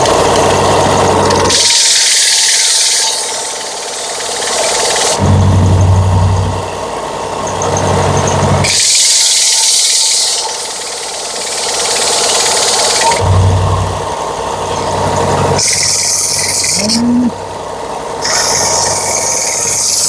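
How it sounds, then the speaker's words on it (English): A power sander works over small wood pieces, a steady motor hum rising into harsh grinding bursts each time wood meets the abrasive, with pauses between passes, loud and close. "So let's go over and do a little sanding."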